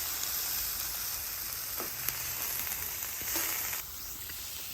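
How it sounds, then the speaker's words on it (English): Peppers and onions sizzle steadily on a hot flat-top griddle, a close, even hiss with a few faint clinks of a utensil. "I'm gonna add the peppers and onions off to the side"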